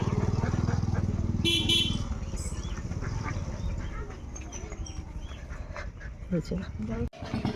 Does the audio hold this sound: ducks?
yes